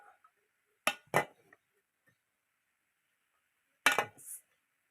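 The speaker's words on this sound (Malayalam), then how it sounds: "അപ്പൊ കുറച്ച് നമ്മുടെ തേങ്ങാച്ചോറ് എടുക്കാം" A few sharp clinks of a serving spoon against a plate as coconut rice is dished out, two quick knocks then a pause and another clatter, close and isolated in a quiet room.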